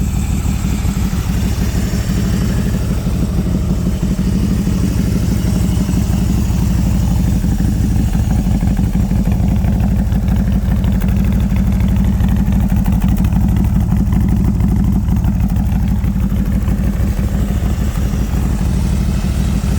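A Harley-Davidson Road King touring motorcycle with a DIY baffled fishtail exhaust idles slightly fast, giving a steady, loud, close low rumble that holds unbroken throughout with no talking.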